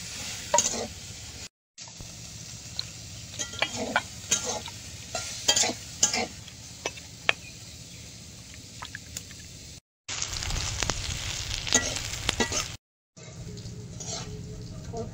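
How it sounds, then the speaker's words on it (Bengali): Bitter gourd frying in oil on a clay stove, a steady close sizzle broken by two short silences, with stirring clatter and scraping of a spatula against the pan. "উচ্ছেটা ভাজা হয়ে গেছে"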